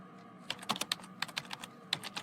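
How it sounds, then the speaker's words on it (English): Dice rolled by hand, a close, fairly quiet run of sharp clattering clicks that come in two short bursts with a brief pause between them, with no voices. "Okay, let's roll the dice."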